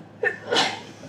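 A single sharp sneeze, close by, preceded by a quick intake of breath.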